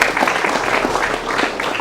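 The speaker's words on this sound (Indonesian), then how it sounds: "boleh tepuk tangan dulu." An audience claps and applauds at a school event at SMK Bina Sriwijaya in Palembang, Indonesia: dense, steady, close clapping throughout, with voices faintly mixed in.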